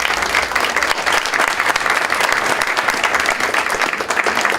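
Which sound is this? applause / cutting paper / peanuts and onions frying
applause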